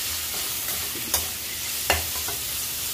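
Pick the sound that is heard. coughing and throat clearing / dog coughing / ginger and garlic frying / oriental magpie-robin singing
ginger and garlic frying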